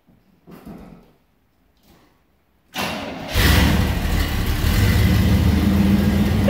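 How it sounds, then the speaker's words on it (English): A 1979 Chevy C10 truck with a Flowmaster exhaust starts after a few quiet seconds and faint sounds, then settles into a loud, steady, rumbling run close by. "Just listen, see what you think of the exhaust."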